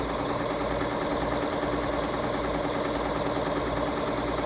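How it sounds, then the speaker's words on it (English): A Bernina sewing machine fitted with a #23 applique foot runs steadily, stitching close beside piping with a continuous, even mechanical whir and rapid needle rhythm, close and fairly loud with no talking. "The stitching that we're applying now is to the left of the original line of stitching, and that puts it really close to your piping."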